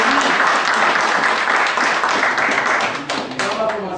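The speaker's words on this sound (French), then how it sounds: "il faut applaudir Salinas" An audience at a FEGAHAND handball awards ceremony applauds the Salinas club, Gabon's champion, with dense, loud clapping that holds steady and then begins to thin out toward the end.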